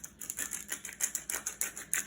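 Pepper grinder cracking pepper over cabbage steaks in a home kitchen: a steady run of quick, crisp grinding clicks in close, repeated bursts, with no voices.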